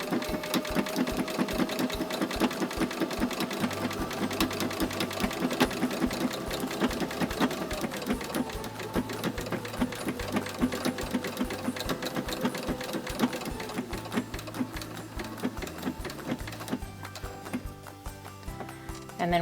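A sewing machine stitches a cloth napkin around a mitered corner, giving a fast, steady mechanical patter with short pauses and changes in pace, close up and fairly quiet.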